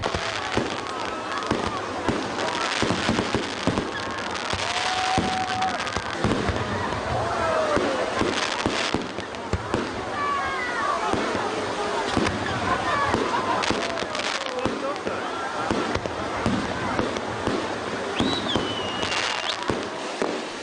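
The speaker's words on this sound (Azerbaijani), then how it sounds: "Festival atəşfəşanlıqla başa çatdı." Fireworks burst and crackle continuously at the close of a festival in Astara, with whistling rockets rising among the pops over a murmuring outdoor crowd.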